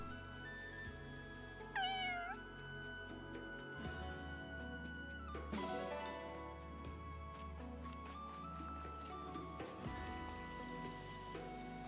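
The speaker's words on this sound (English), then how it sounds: "kitty cat!" A cat meows a few times during a Fire Emblem Engage game stream, the short rising and falling calls sounding close and moderately loud over steady game music and background noise.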